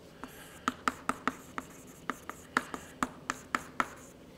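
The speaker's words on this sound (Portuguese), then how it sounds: "vou escrever o exemplo" Chalk or marker writing an example on a board, a series of about a dozen sharp, close taps and short strokes in an uneven rhythm, fairly quiet with no talking.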